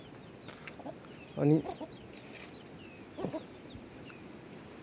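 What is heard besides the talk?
chickens clucking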